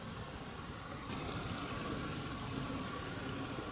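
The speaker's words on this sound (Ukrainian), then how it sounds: "Беремо нашу суміш, заливаємо потроху." Fuel mixture is poured slowly into the tank of a brush cutter, a soft continuous trickling and splashing that is faint and close with no voices.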